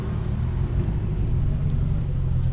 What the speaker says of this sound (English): So that's the Datsun in question